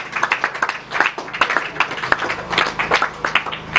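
A church congregation claps together in a steady rhythmic applause, loud and close, with occasional voices mixed in.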